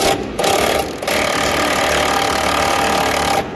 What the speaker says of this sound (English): the bolts are coming undone with the impact